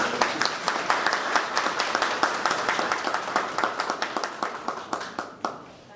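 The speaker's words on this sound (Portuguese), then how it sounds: "Vamos receber a professora Jandira com uma salva de palmas." A small audience applauds to welcome a teacher. Crisp, distinct hand claps ring out in a steady rhythm, with a few dominant clappers standing out before the applause tapers and ends.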